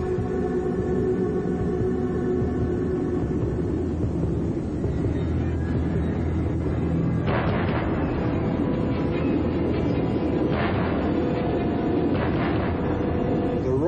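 A tornado's deep, continuous roar rumbles steadily throughout, heavy and train-like, with rushing noise surging stronger partway through.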